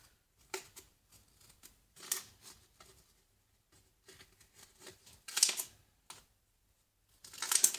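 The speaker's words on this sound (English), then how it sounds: "Just simply cut it out." Paper template for a model RV skeleton being cut out with scissors: quiet, irregular snips and rustles come in short bursts, some sharper and louder than others, with gaps between them and no talk.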